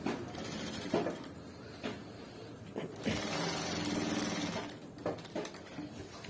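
A sewing machine stitches the hem of a men's shirt in steady bursts, pausing between runs with one long continuous run in the middle; close and fairly loud.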